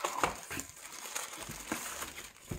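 A keyboard being pulled out of its packaging, giving soft crinkling and rustling of wrapping with a few sharper crackles spread across the moment.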